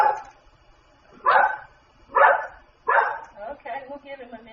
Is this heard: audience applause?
no